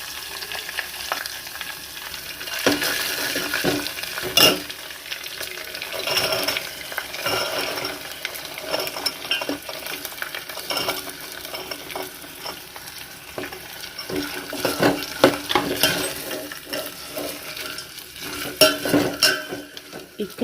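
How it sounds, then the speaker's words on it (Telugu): Chopped carrots stir-fried in oil with garlic paste crackle and sizzle steadily, with a spatula scraping and clinking against the pan throughout; the sound is close and fairly loud. "మనం కట్ చేసుకుని ఉంచుకున్న క్యారెట్ కూడా వేసేసుకుని ఫ్రై చేసుకోవాలి."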